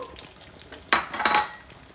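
Ginger pieces, green chilies and whole spices frying in a pan make a brief burst of sizzling and crackling with light utensil clinks, close, after a quiet start.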